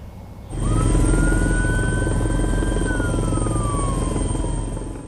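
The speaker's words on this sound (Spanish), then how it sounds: "En helicópteros combaten las llamas con lo más importante, el agua" A firefighting helicopter carrying water over a wildfire near vineyards roars loudly and steadily, its rotor drone filling the scene close by with a faint whine rising and falling above it.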